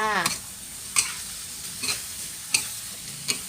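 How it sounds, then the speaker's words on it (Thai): Pork belly and bell peppers stir-fry in a hot pan as a spatula scrapes through them about five times in a loose, regular rhythm over a light sizzle, close and clear. "ผัดไปเรื่อยๆให้เข้ากันดีแล้วซิมรสชาติจ้า"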